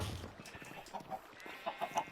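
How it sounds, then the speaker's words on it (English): Minecraft chickens cluck in short repeated bursts among other farm animals, mid-distance and clear, with faint game ambience beneath. "here we have some chickens"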